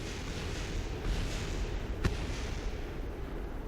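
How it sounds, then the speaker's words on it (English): Explosions in the game Kerbal Space Program make a steady, dense rumbling roar with one sharp, crackling burst standing out partway through; no voices. "Why is everything exploding?"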